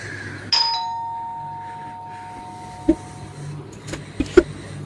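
A Ring video doorbell chime sounds once, a clear sustained tone that rings out and slowly fades, followed by a few sharp knocks or clicks close by.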